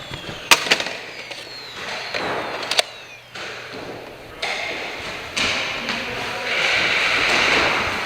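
Full-auto gunfire in a video game, heard as sharp cracks and rapid bursts scattered through the clip, with denser sustained fire toward the end, with no talk over it.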